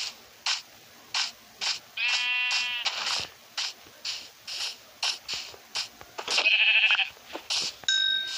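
Minecraft sheep give repeated short bleats in a rapid, choppy series, fairly close and clear, with other blocky game sound effects and chimes mixed in between.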